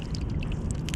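Live squid bait squirting water, handled on a kayak during a January California halibut trip: soft, close wet spurts and drips over a steady low outdoor rumble, with no talking.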